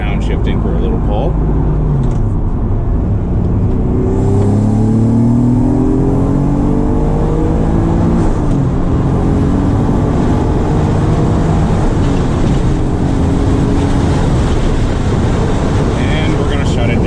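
A Science of Speed twin-turbo Acura NSX engine roars loud and close after a downshift, revving up through rising pitch sweeps under heavy wind buffeting, heard from inside the car.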